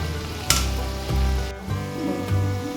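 Pitha made with sugar and Aparajita flower frying lightly in a pan, a steady soft sizzle with a few stir bumps and scrapes, close and fairly quiet with no talk.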